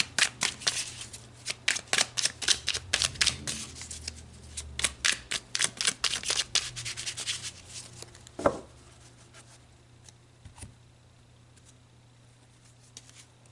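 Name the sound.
shuffling and pulling tarot cards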